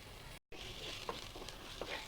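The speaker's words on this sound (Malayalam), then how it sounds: "ഒരു സവാള സ്ലൈസ് ചെയ്ത് വലിയൊരു സവാള സ്ലൈസ് ചെയ്ത് ഇട്ടിടുന്നുണ്ട്" Sliced onion fries in coconut oil inside a clay pot, giving a steady close sizzle with occasional soft stirring clicks and a brief dropout near the start.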